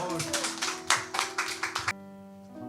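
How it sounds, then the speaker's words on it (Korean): A church congregation claps together in a short, bright burst of many hands lasting under two seconds, then stops, leaving a low hum and a quiet voice. "박수 한번 주세요."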